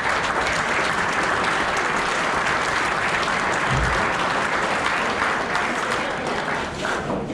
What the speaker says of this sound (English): And we'll applause for everybody when we're done.